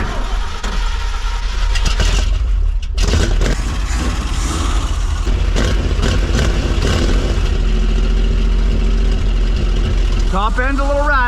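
A 1978 Ford F-350 engine fires and runs loud and close, with rough idling and revving. A person talks over the engine, and a brief rising whine comes near the end.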